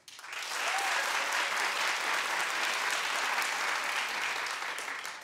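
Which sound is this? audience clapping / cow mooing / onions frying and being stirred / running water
audience clapping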